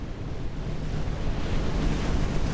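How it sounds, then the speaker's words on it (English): Ocean waves wash steadily in the NAUTIS Home ship simulator game, a continuous, fairly loud rush of surf with wind-like noise and no voices. "Just listening to the waves."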